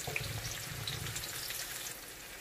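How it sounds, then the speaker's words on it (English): Asparagus and mushrooms simmer gently in a pan for a stir fry, a soft, close bubbling hiss that stays faint and even. "So we're going to let this one simmer for a minute or so"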